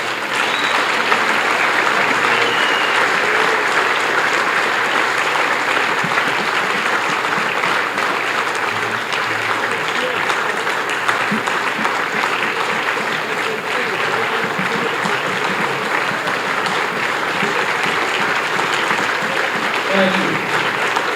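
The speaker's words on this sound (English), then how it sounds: "Let's give them all a big round of applause." A banquet audience gives a long, steady round of applause for 2023 hall of fame inductees, a thick wash of clapping that stays even throughout with murmured voices underneath.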